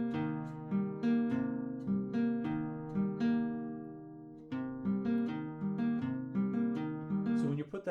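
Fingerstyle guitar pattern moving between the 5th and 4th strings, with hammer-ons and pull-offs, plucked notes ringing in a steady, slow rhythm, close and clear with no talking.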